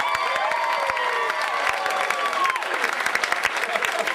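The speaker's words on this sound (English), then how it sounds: "Can we have a huge round of applause for our winner," Crowd at a stand-up comedy competition in the North applauding and cheering for the winner, a loud sustained roar of clapping with whoops and a voice ringing through.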